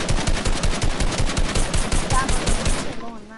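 Assault rifle gunfire in a multiplayer shooter game, rapid steady bursts of automatic fire close and loud for about three seconds, then cutting off abruptly, with faint voices underneath.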